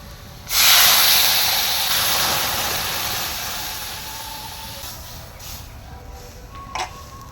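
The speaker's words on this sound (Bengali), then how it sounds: "আমাদের পেঁয়াজটা ভাজা হয়ে গেছে এবার আমরা ডালের ফোড়নটা দিয়ে দেবো" Spices hit hot oil with fried onions for tempering a tomato dal, bursting into a loud, close hiss that slowly settles into a steady sizzle, with a small clink near the end.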